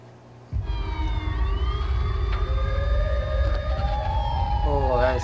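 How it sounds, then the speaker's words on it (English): A loud video game siren, from a Siren Head game in Dreams, starts abruptly and holds a long, slowly rising wail with an eerie, synthetic quality, continuing without pause. "Anytime I hear these sirens now, it just creeps me out."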